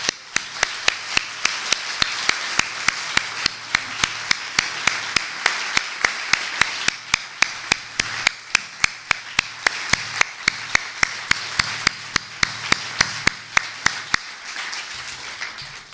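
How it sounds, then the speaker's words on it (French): An audience applauds during a 150th-anniversary celebration of the Centre Laënnec, with sharp, distinct claps in a steady rhythm over a continuous wash of clapping, fairly close and loud, tapering off at the end. "je crois qu'aujourd'hui on peut les applaudir très très fort"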